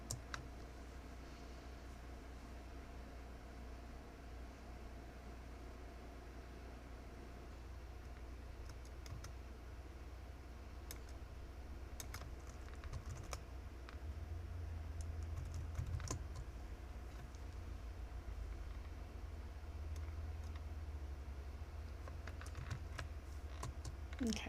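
Faint keyboard typing at a computer running a command line, with scattered key clicks and keystrokes over a steady low hum that grows slightly louder midway, no speech.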